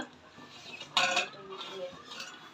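Vegetables with carrots and peas being stirred in a cooking pot for vegetable pulao, giving soft scraping and a sharp metallic clink of the utensil against the pot partway through, fairly quiet.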